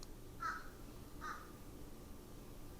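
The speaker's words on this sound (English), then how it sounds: "There's also like a very large crow," Two harsh caws from a very large crow, spaced about a second apart, carry over low steady background noise outdoors; no one speaks.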